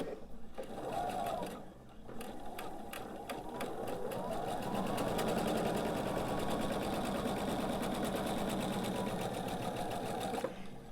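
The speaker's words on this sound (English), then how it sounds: "So we're going to sew from valley to valley so that we have our little bow tie at the bottom." A sewing machine stitches beach ball quilt pieces in a rapid, even mechanical whir close by, stopping briefly near the start and then running for several seconds. A voice murmurs faintly underneath.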